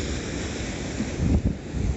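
Sea waves and wind along Blackpool promenade on a dry, chilly February day, a constant rough wind rush with a louder surging swell of surf in the middle, close and loud.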